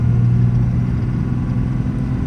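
A 6.7 Cummins diesel in a 2015 Ram 5500 service truck with an Aisin automatic runs at a steady, loud idle, a continuous low rumble with no change in pitch and no voices.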